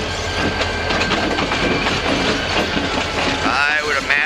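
A freight train rolls steadily along the rails, a continuous loud rumble with rhythmic clatter of wheels and a faint squeal near the end.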